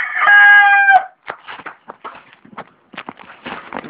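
A rooster close by lets out one loud, clear crow lasting about a second, followed by a run of scattered clucks and scratchy fowl noises from the flock.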